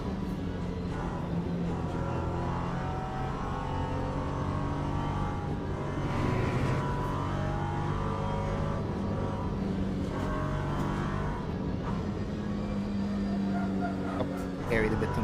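An LMP3 race car in a racing sim game drones with a continuous engine tone, rising and falling as it accelerates and shifts, loud and steady throughout, with someone talking over it.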